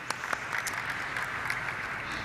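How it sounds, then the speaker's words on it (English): Audience applause at a stock exchange listing ceremony for Aadhar Housing Finance, a steady, moderately faint wash of many hands clapping with no voices over it. "Let's have a huge round of applause for them,"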